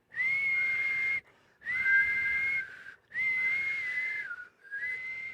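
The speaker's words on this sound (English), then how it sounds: "Sunday afternoon, I'm just whistling." A person whistles a steady tune in three long held phrases with short pauses, then starts a fourth, clear and close with no other sound.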